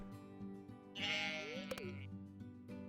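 A sheep bleats once in a video game, a clear wavering cry in the middle, over quiet game background sounds and a speaker's voice.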